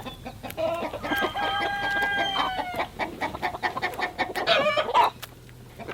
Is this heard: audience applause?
no